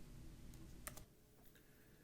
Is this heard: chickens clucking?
no